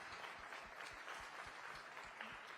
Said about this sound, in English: Yes, please clap to that.